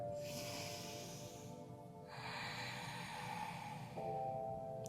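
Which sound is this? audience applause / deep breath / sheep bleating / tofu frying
deep breath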